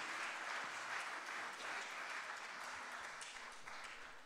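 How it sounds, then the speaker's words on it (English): A congregation at a baptism service gives a round of applause, a steady dense patter of many hands clapping across the room that holds evenly throughout. "Let's give these guys just a round of applause for leading us so well."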